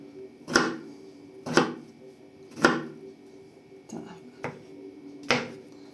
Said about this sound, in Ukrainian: Треба один невеличкий кабачок нарізати брусочками